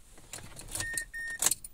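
Keys jangle as the ignition key is turned in a Mazda 6 with a replaced ECU, followed by a steady electronic tone; the car stays silent and does not start.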